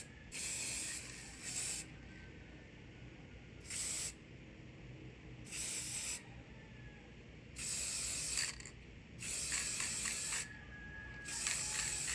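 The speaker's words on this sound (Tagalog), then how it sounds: "we're going to use Nico Spray Honda Blue this time" Short hissing bursts of a spray paint can, metallic blue paint on a toy robot, about six sprays of one to two seconds each, separated by brief pauses, fairly close.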